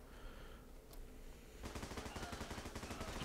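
A machine gun fires in the game Running With Rifles: after a quieter stretch with a single distant crack, a steady rapid stream of shots begins and continues evenly to the end.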